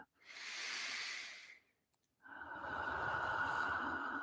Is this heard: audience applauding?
no